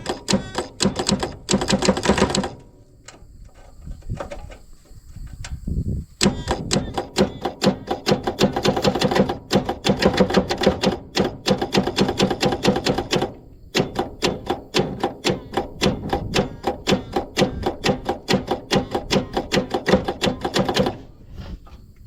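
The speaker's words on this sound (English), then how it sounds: "Then we'll give it another crank" Allis Chalmers HD6 bulldozer engine turned over by its starter, a rapid, loud mechanical chugging in long repeated bursts with brief pauses between cranking attempts.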